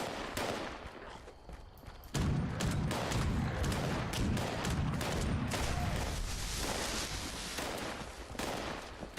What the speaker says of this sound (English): Who the fuck is shooting at it?